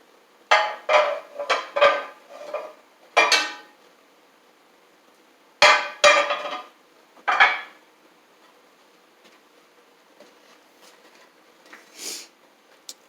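Metal pans clatter and clank as they are rummaged through a cupboard, with several sharp bursts of knocking close by, separated by short quiet gaps.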